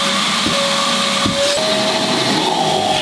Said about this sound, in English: Just vacuum all the air out of the room.